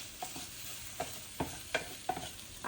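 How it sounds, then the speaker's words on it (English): Spoon stirring a squash and pumpkin mixture in a pan, a series of soft scraping strokes at an irregular steady rhythm with a faint sizzle beneath, close and fairly quiet. "So give it one more stir."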